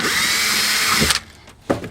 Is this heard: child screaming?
no